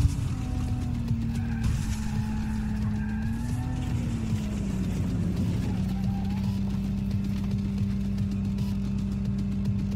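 A car sliding sideways in Cyberpunk 2077, its engine holding a steady low drone with a brief dip in pitch while faint tire scrubbing runs underneath.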